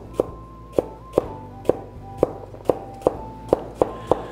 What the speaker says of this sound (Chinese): 我们一开始就先把我们的老姜切片